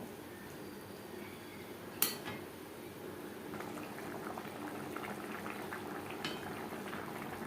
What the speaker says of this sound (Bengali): তিন 4 মিনিট গ্রেভি বেশ ভালো করে ফুটিয়ে নেব।